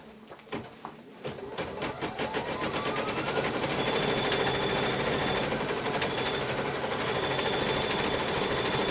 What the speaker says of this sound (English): Next we're going to stitch the background quilting.